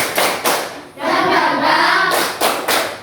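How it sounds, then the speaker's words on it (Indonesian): A group in an Indonesian teacher-training classroom performs a spirit clap, with several bursts of rhythmic clapping separated by a brief pause and a longer stretch of voices chanting between the claps. "Ayo coba kita tepuknya dulu. Tepuk semangat."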